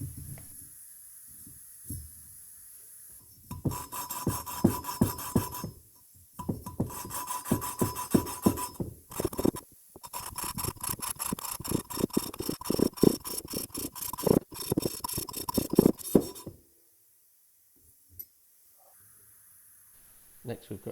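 Valves on a Honda XR200 motorcycle engine being lapped in with cutting compound: rhythmic gritty rasping strokes in bursts, close and fairly loud, with pauses between and quiet stretches at the start and end.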